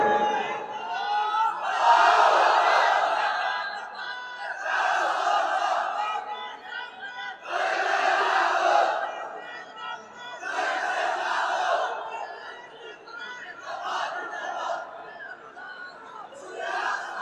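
A large gathering at an Islamic religious sermon chants the takbir in unison, several loud swelling call-and-response bursts spaced a couple of seconds apart, with a lone leader's voice between the crowd's roars.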